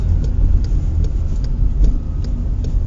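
A car with a manual gearbox slows in second gear as the clutch is let out gently, with no braking. Its engine gives a loud, steady low rumble close by, with faint regular ticks over it and no talking.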